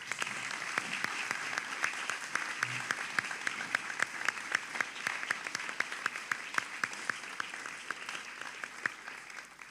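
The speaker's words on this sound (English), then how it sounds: "give a round of applause to show your appreciation to the group that have organized this" Sustained applause from a large audience at a graduation valedictory assembly, dense, even clapping filling the hall throughout with individual claps popping out, fairly distant and steady.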